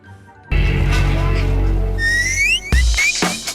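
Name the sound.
Whistle Pop candy lollipop whistle being blown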